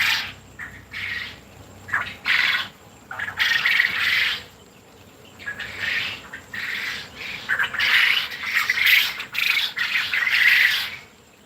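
A flock of farm birds at an agro farm and hatchery squawks in loud, overlapping bursts that come and go throughout, with a steady buzz of insects underneath and no voices.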